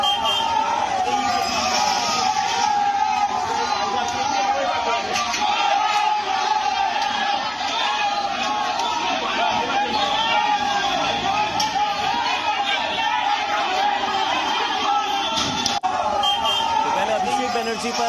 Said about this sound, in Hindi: इस दौरान भीड़ ने उनके खिलाफ जमकर नारेबाजी की।